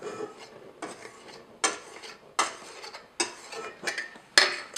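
Flour is stirred into a wet batter in a bowl. A utensil scrapes and clinks against the bowl in repeated strokes, about one every second, close and clear, with no talking.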